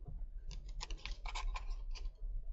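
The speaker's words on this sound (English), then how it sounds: "So I'm going to cut out one of my leaves." Scissors snip through paper to cut out a leaf shape during a papercraft masking project, a quick run of small crisp clicks and rustles, close and fairly quiet, with no talking.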